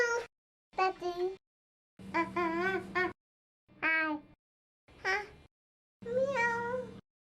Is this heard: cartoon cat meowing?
yes